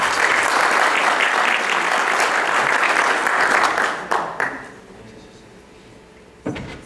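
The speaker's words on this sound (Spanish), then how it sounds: "Aplausos." Audience applause at an academic law diploma event in Lima, a sustained crowd of clapping that fades out after about four seconds, followed by a few isolated claps and brief quiet.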